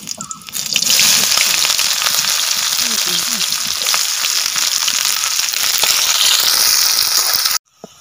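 Onions dropped into hot oil in a pan for a rural village fish curry: a loud, steady, close sizzling hiss that starts abruptly and runs unbroken before cutting off at the end.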